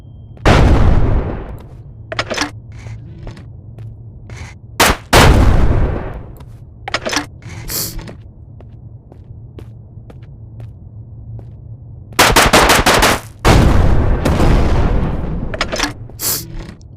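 Rocket launcher fire in the Shotwood VR game: loud booming blasts with sharp cracks, a burst early, a few scattered shots in the middle, then a sustained cluster of heavy explosive bangs near the end, with no talk.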